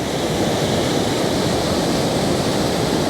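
Skyfall waterfall at Glen Etive roars as a loud, dense, unbroken rush of falling water, close and steady with no voices.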